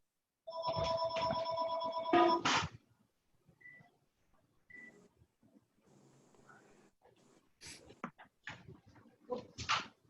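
A home telephone rings in a quick burst for about two seconds, followed by quiet scattered clicks and faint household sounds.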